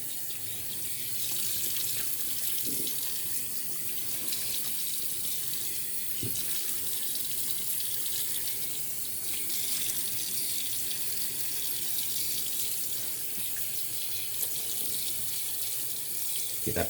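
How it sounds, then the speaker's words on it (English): Tap water runs in a steady, unbroken stream to wet a shaving brush, a close, even rush of flow lasting throughout with no voices. "I'm also going to wet the brush a little more"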